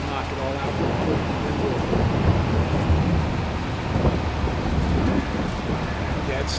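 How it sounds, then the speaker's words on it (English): Thunder rumbles through a rainy Farming Simulator 22 storm, a low rolling roar layered over steady rain hiss and wind, with a few sharper bursts along the way and a voice speaking briefly underneath. "That was thunder."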